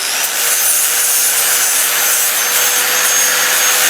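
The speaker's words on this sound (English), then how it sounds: "I'm going to start by using just a grinder" Angle grinder working over the metal surface of a custom chopper triple tree, a steady, loud, close high-pitched grinding hiss that runs unbroken throughout.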